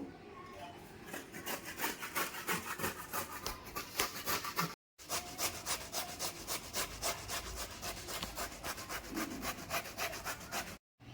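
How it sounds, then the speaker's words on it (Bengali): Bottle gourd is rubbed against a kitchen grater in rapid, rhythmic rasping strokes, close and fairly quiet, with a brief pause partway through and another at the end. "আমি একটু গ্রেটারে ঘষে নেব"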